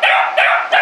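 A beagle barks loudly and rapidly at close range, three sharp, high-pitched barks on a hot day at a small farm.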